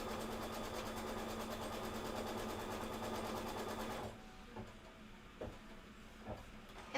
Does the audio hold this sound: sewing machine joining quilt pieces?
yes